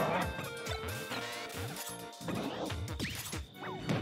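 Mega Man's crash bomb in a Super Smash Bros. Ultimate tournament match against Dedede sets off a quick series of punchy, crackling impact blasts, layered with game effects and stage noise.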